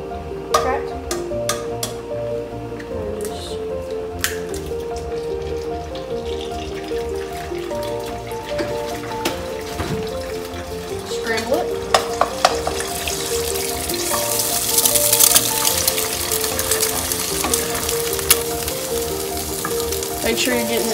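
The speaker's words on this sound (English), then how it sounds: "Make sure you're getting it nice and scrambled." Egg scrambling in vegetable oil in a skillet over medium-high heat gives a continuous loud sizzle and crackle, with spatula scrapes and clinks throughout. The frying grows brighter and fiercer toward the end.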